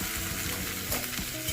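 Hot tempering with asafoetida poured into freshly made idli chutney, giving a close, steady crackling sizzle with small pops throughout.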